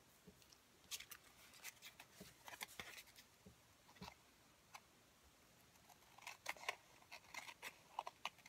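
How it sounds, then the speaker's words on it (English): Scissors snip through paper for a napkin texture card in quiet, close, irregular clicks and crisp cuts, clustered in short bursts with brief pauses between. "I'm going with the scissors."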